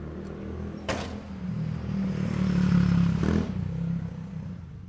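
A red family car rolls out of a garage at a grandfather's old ironworks. A sharp clack or door knock comes first, then the engine swells close by as the car pulls out and fades, with no talking.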